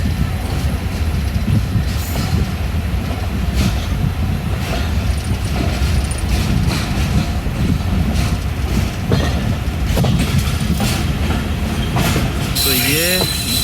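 The Sir Syed Express rolls through a station where locomotives stand parked, a loud, steady rumble and clatter of wheels on rails that ends in a sharp, rising wheel squeal.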